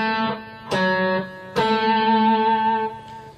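Cello plays a short run of bowed notes from the Prelude of Bach's Cello Suite No. 1, clear sustained tones changing pitch with distinct note onsets, close and alone.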